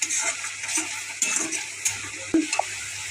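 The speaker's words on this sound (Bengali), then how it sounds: "জল দিয়ে ভালো করে মিশিয়ে নিলাম, নাহলে কাঁচা মশলার গন্ধ আসবে।" Spice paste being stirred with water in a frying pan while cooking a Bengali rohu fish and eggplant dish: steady wet scraping and sizzling with occasional sharp clinks of a utensil against the pan, fairly close, with no talk.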